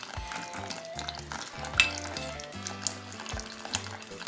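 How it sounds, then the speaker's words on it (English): A spoon stirs fenugreek powder into hot water, clinking against a bowl in a steady circular rhythm, close by, with light scraping and tapping. "and then I'm going to stir it just like this."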